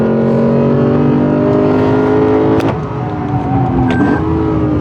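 A Lexus RC F drives hard on a race track, its engine loud and close with a steady high-revving tone that dips as it shifts and then climbs again, with no talking.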